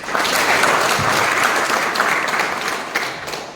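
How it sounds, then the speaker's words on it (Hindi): Loud, dense applause from participants at a rural business training session in India, a steady wash of many hands clapping together that fades slightly toward the end. "पहले तो इनकी हिम्मत के लिए जोरदार तालियां होना चाहिए।"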